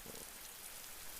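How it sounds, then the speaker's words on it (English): Rain falls steadily outside on a night in the video game Persona 4 Golden, a soft, even hiss with no other sound over it. "You can hear it raining outside."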